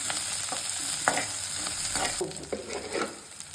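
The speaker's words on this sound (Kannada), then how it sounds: "ಗ್ರೀನ್ ಚಿಲ್ಲೀಸ್ನ ಸಣ್ಣ ಒಲೆಯಲ್ಲಿ ಸ್ವಲ್ಪ ಫ್ರೈ ಮಾಡ್ಕೋಬೇಕು" Green chillies fry in a pan over a low flame, a soft continuous sizzle punctuated by light stirring clinks and scrapes, close and fairly quiet with no talking.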